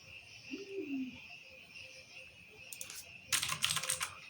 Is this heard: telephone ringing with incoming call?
no